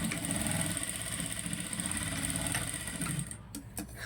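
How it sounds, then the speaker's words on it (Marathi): A sewing machine runs steadily as it stitches a tuck on a blouse, a continuous close whirring drone that slows and stutters to a stop near the end. "इथपर्यंत घेऊन थोडीशी सरळ शिलाई टाकून घ्यायची."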